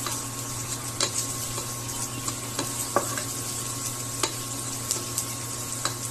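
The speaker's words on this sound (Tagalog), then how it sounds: "Pag ginisa mo siya, ang bango-bango." Onions sautéing in a pan for chicken adobo, a steady close sizzle with scattered ticks and stirring clatters throughout.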